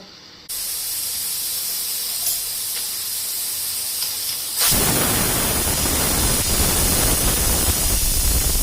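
A pressure cooker cooking mutton curry on a stove releases steam in a steady hiss, which suddenly swells into a louder, rushing blast about halfway through and holds there. No one speaks.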